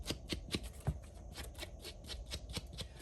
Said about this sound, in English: I'm also gonna distress right through where the white paper is.